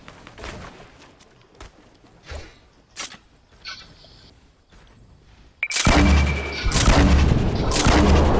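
A rocket explosion in Fortnite lands as a sudden loud boom partway through, following scattered quieter impacts and footsteps, then lingers as a thick rumbling blast that stays loud to the end.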